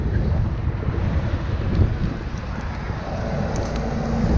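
Wind gusting around a hazardous dead tree during a climbing removal job, a steady broad rushing roar that buffets the microphone, loud and continuous with no talking.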